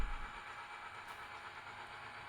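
A model train rolls along the rails in a steady low rumble with a faint hiss, a heavier thump at the very start, no talk.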